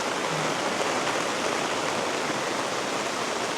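Dense rainfall drums down steadily over a village, a constant wide wash of hissing noise at close range and even loudness throughout, with no speech.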